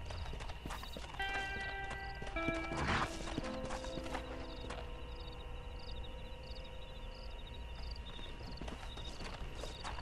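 In Red Dead Redemption, a horse paws the earth with repeated hoof scrapes and clip-clop thuds over steady game music and ambient noise, with a brief whinny near the start.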